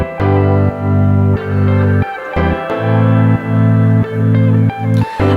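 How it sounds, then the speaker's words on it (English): Layered piano, several synth pads and deep sub bass swell together in a song arrangement, pulsing sustained chords repeating in a loop, loud and without talking. "And then to add to this was just a piano, more pad, another pad, and a sub."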